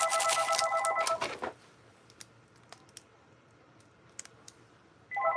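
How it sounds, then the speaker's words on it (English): A telephone rings indoors with a loud warbling burst, then falls silent apart from a few faint clicks. A second ring starts at the end. "The phone rings."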